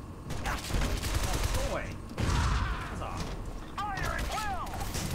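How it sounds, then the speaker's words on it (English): Bursts of enemy machine-gun fire and mechanical clatter in the video game Shadow Complex, with thuds and sweeping whines layered in, loud and dense throughout, under a person's voice. "That guy has a machine gun."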